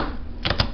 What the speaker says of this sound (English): you just kind of chop it through like such and hash it together